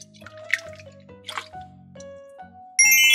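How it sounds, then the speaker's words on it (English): Water sloshes and drips inside a spinning bath toy, with wet plops and squishy splashes between bright chiming toy tones, ending in a sustained electronic jingle. "Give the water a good spin."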